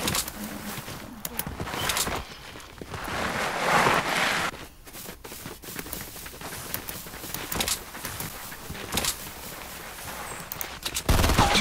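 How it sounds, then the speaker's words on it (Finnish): Gunfire in a video game, a loud burst of rapid shots followed by scattered single shots and clatter, with game noise continuing underneath. "Mä vahingossa ammuin, piti lyödä pikille."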